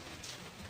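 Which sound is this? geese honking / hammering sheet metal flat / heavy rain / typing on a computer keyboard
heavy rain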